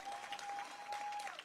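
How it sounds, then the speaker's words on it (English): An outdoor audience at a Betty White stamp unveiling at the Los Angeles Zoo and Botanical Gardens applauds, a brief, soft, even patter of many hands heard from some distance, with a thin steady tone running beneath it. "Round of applause for each person here."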